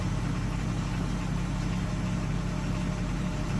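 A 2015 Ford F350 with a 6.7L Powerstroke diesel sits idling nearby, a loud, steady low rumble with constant throb and no changes in pace, no voices over it.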